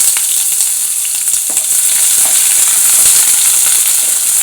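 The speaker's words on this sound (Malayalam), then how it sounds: "ഉള്ളി, വെല്ലുള്ളി, വെളുത്തുള്ളി, ഇഞ്ചി ഇതെല്ലാം കൂടി ഇടുവാണ്. പയ്യെ വാടട്ടെ." Onion, garlic and ginger frying in hot oil in a pan, a loud, steady, close sizzle with faint stirring scrapes underneath and no voices.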